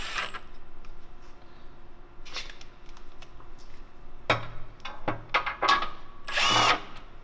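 A power tool whirs in short bursts while driving bolts into a Toyota Tacoma skid plate, with intermittent buzzing spins and clicks separated by quiet pauses.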